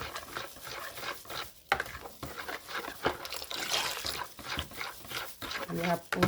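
Liquid soap mixture with foam booster is stirred in a container, producing wet sloshing and swishing strokes with irregular splashes, while a person talks over it.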